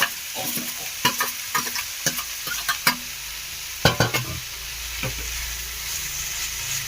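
Cooked, drained greens are tipped into a frying pan for soppina palya and stirred, giving a run of close spatula scrapes and clatters over a soft sizzle, then a quieter frying hiss.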